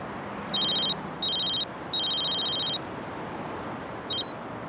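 Old-style telephone bell ringing in a Bollywood action movie scene, three clear ring bursts followed by a short fourth, over a steady background hiss.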